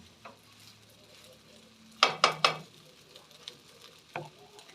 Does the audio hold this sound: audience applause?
no